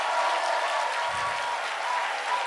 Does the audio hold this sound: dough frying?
no